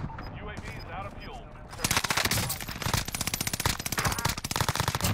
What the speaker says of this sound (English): What are they shooting from?